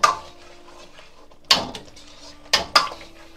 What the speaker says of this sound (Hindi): धनिया इसी में डाल के हम मिला रहे हैं